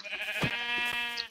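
A single sheep bleats in a Minecraft-style survival video game, one wavering, nasal call lasting about a second, clear and close with nothing else over it.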